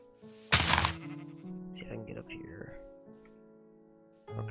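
A sheep in the Minecraft video game bleats loudly and near in a short burst, followed by softer wavering game sounds, with a second bleat starting at the end.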